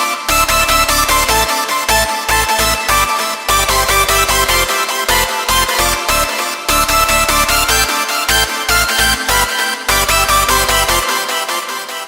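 Hardstyle synth melody from a production session plays loud and steady, bright stacked chords hitting in a choppy rhythm with short gaps, full-range and alone without any voice.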